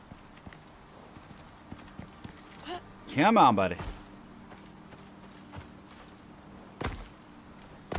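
Hooves of a horse in the video game Icarus clip-clop faintly at intervals, while someone speaks briefly and a louder whinny-like burst rises midway.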